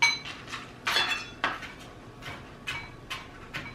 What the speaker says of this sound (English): give it a quick little chop with this